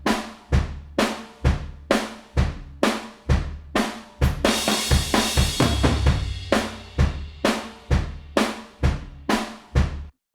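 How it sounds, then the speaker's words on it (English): A snare drum struck repeatedly in a steady rhythm, each hit sharp with a short decay, plus a stretch of denser rolling hits and cymbal wash midway. "we've got a drum and it sounds like this."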